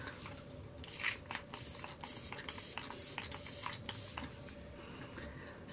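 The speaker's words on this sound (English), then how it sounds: "I'm going to spray it with the Lock-It Makeup Setting Mist from Kat Von D" About a dozen quick, faint hissing spritzes of Kat Von D Lock-It Makeup Setting Mist come from a pump spray bottle in a rapid, fairly even rhythm close to the mic.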